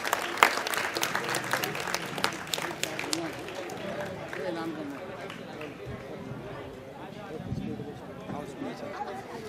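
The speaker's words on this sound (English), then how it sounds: "Please clap for them." An audience at an education expo prize ceremony claps for a winning team, dense applause strongest at first then thinning into scattered claps, with voices talking over it.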